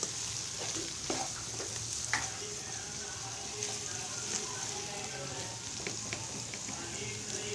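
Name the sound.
onions being mixed and fried in pan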